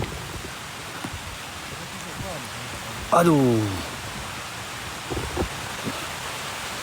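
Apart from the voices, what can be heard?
rain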